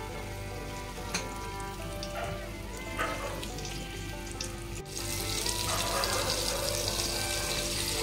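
Garlic cloves and masala sizzle in a hot pan over a low gas flame, with a steady crackling fry, a sharp clatter partway through, and the hiss growing louder and fuller in the second half.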